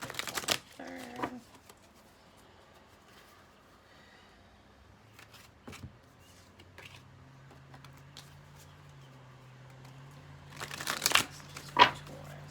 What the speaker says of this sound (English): let's give a few shuffles for Taurus